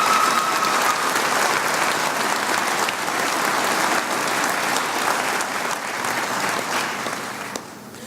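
Steady, sustained applause fills a hall at the Salina Area Technical College 2019 graduation ceremony, a broad wash of many hands clapping that fades slightly at the end.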